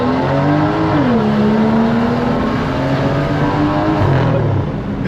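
A BMW 335i pulls hard at full throttle, its engine drone rising in pitch, easing briefly, then climbing again, loud and close from inside the car with no talking.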